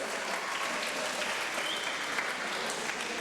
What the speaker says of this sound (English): I want you to give the teachers in this room a big round of applause